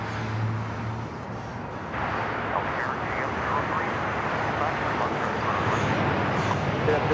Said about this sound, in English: This is Japan Airlines Flight 61 taking off to Tokyo Narita on the 787-9 Dreamliner.